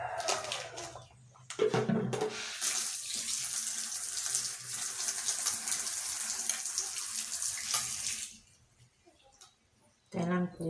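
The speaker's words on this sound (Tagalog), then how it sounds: "maghuhugas na tayo ng aking lulutuing matambaka" Tap water runs steadily into a kitchen sink while matambaka fish are washed, a broad hissing splash lasting several seconds before stopping, with brief handling noises before and after.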